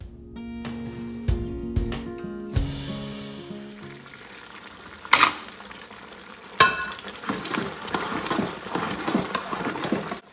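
Grated carrot halwa roasting in a pan, with irregular scraping and stirring strokes under a steady low sizzle, plus a couple of sharp metallic knocks. Faint tonal sounds are heard near the start.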